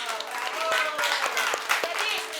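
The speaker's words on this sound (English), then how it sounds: "Si vous êtes content, on applaudit." Children in a classroom clap their hands in a brief burst of scattered, uneven claps at close range, with voices chattering over them.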